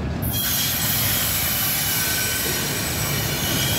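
CSX freight cars roll past on a Jacksonville rail line and brake, giving a loud, steady rumble of wheels with high, sustained brake squeal throughout.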